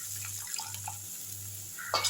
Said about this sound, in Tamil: இப்போ கொஞ்சமாக ஒரு 1/4 கிளாஸ் அளவுக்கு தண்ணி ஊற்றிக்கோங்க.